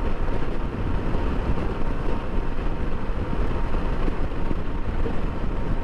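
A BMW K1600 motorcycle cruises down a road on an early-morning ride, heard as a steady, dense rumble of engine and wind noise that stays constant with no breaks.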